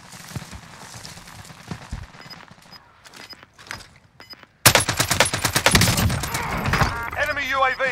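Loud, rapid automatic gunfire in Call of Duty Warzone: scattered shots and thuds at first, then a sudden dense stretch of continuous, close firing over the second half.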